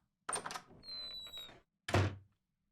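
A door being locked in the Witch On The Holy Night video game: a quick clatter of handling and a short scrape, then a pause and a single firm thunk, close and fairly quiet.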